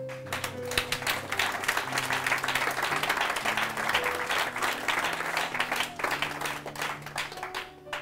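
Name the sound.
audience applause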